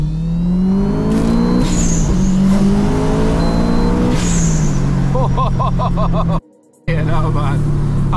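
A 470 hp Subaru Impreza STI with a built engine revs hard and high, rising and falling pitch through several loud pulls, with a brief cut in sound near the end before the engine picks up again.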